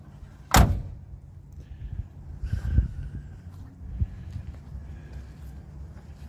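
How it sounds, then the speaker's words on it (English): A 1978 car door, weathered from sitting out in a field, is worked by hand, with a sharp metallic clunk, then creaks and rattles, and another softer thunk as it shuts. "Listen to this door."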